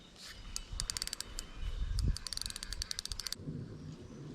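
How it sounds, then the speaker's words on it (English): Fishing line squeaks as it drags through weed, giving faint, sharp, rapid ticking squeaks in uneven bursts over a low background rumble. "when your line starts making squeaking noises"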